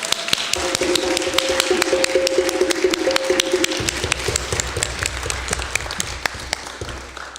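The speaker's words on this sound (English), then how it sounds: "Can we just get a tiny round of applause for the live stream team?" Audience at a Friday night Shabbat service clapping for the live stream team, dense continuous applause close and fairly loud for several seconds, with a brief sustained tone in the background early on.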